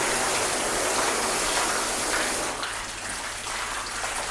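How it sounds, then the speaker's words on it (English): Water poured and streamed over a freshly waxed car panel, a steady splashing rush that thins out and softens partway through, close by and with no talk. "So we'll try and just cover that entire thing in water."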